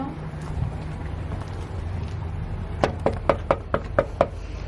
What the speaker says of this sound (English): Do we knock?